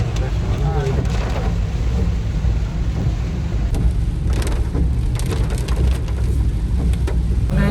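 Steady rain pattering on a surface throughout, with low rumbling noise underneath and a faint voice mixed in.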